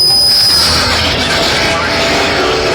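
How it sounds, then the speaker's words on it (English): A tour train slowing down, its wheels letting out a loud, sustained metallic squeal that rides over a continuous rumble of rolling railcars, close and steady throughout. "I'm going to slow the train down."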